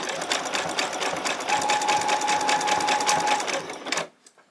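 A sewing machine runs a zigzag stitch along a quarter-inch seam on a long-sleeved T-shirt, giving a fast, steady mechanical whirr for about four seconds before it stops abruptly.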